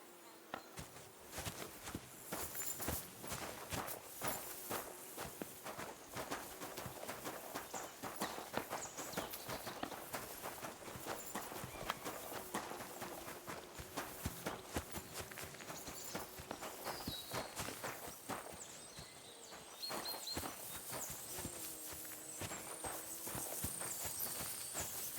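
Horse hooves clip-clop at a walking pace amid buzzing insects and ambient outdoor sounds in the video game Kingdom Come: Deliverance 2, fairly quiet and continuous.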